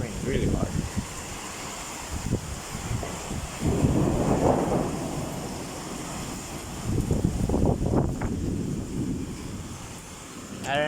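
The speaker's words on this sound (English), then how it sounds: "It rains really hard." Hard rain in a storm roars and buffets the microphone with rising gusts of wind noise, swelling and easing in waves, while a voice briefly breaks through near the start and end.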